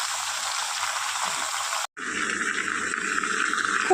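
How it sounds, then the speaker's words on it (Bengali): Vegetables for sukto frying in a pan: an even, hissing sizzle that briefly cuts out, then resumes slightly brighter and steady. "খুব ভালো করে সবজিগুলো আমি ভেজে নিই"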